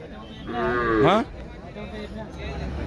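A large cow at the Saturday cattle market in Pebbair gives one loud, close moo that swells and then breaks off, over a steady murmur of market voices.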